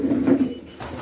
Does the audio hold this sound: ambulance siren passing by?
no